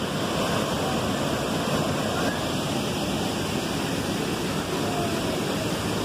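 Powerful waterfall on a cold igarapé stream at Presidente Figueiredo, Amazonas, with a strong current, roaring as a steady, loud, dense wash of falling water that continues without a break.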